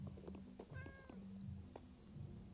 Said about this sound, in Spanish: Eh, maullas.